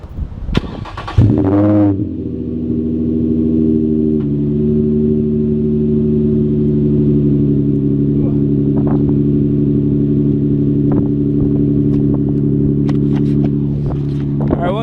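An Infiniti G35's engine cranks and catches after a spark plug change, then settles into a steady, loud idle with a low rumbling hum that continues for the rest of the clip.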